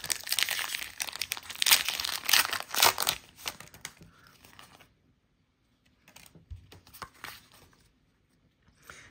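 A Pokémon 151 booster pack wrapper crinkles and tears open in loud, close bursts of foil rustling, then goes quiet apart from a few softer handling crinkles.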